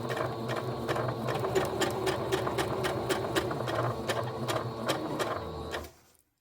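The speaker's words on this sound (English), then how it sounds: "My applique is not going anywhere as I sew." A sewing machine stitches down an appliqué in a close, steady, rhythmic whir with mechanical ticking that runs unbroken, then stops abruptly.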